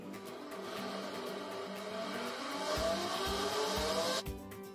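Small electric motor spinning up a flywheel in an energy storage demonstration, a steady whirring hum with tones gliding upward as it accelerates, close and continuous, cutting off abruptly near the end.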